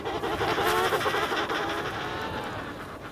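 A dense chorus of many emperor penguins calling at once, overlapping trumpeting and warbling cries from a large colony, fairly faint and continuous.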